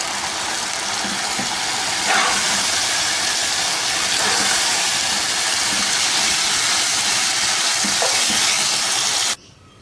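Spaghetti stirred into a hot frying pan for rainbow chicken spaghetti, a loud continuous sizzle and hiss with occasional soft scrapes of stirring, cutting off abruptly near the end.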